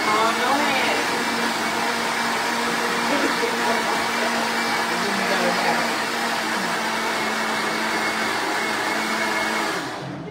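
An expensive blender runs continuously, blending with lemon juice. Its steady motor whine and whirr hold for about ten seconds before trailing off at the end.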